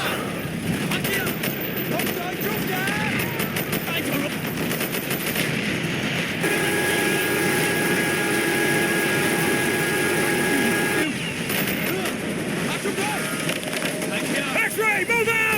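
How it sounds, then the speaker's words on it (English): Aircraft strafing run in Call of Duty Black Ops, with sustained loud machine-gun fire and rumbling engine noise filling the scene, a steady tone running through the middle, and battle chatter in the mix. "X-ray coming in for a strafing run."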